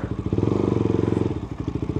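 Husqvarna Svartpilen motorcycle idles with a quiet exhaust, a steady low rapid pulsing thump repeating evenly, close by and uninterrupted.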